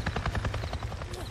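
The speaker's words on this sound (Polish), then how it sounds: "Śmigłowiec Niro! Przeleciał tuż nade mną" A helicopter passes close overhead in the video game Days Gone, its rapid rotor thumping pulsing loudly and steadily.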